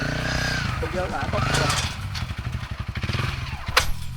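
Motorcycle engine revving hard during wheelie practice, the throttle opened sharply in short surges, close and loud, with people talking over it.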